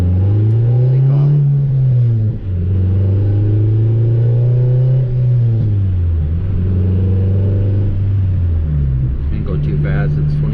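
A salvaged Acura Integra GSR with an all-motor B18C1 engine revs and accelerates from inside the car. Its loud, steady engine drone climbs and falls in pitch over several gear-like swells, with a voice talking over it.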